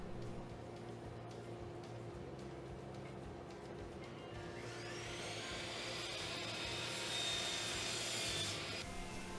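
Rough plywood is sanded with a soft, steady rubbing at first. About halfway through, a louder, higher grinding swells and continues to the end.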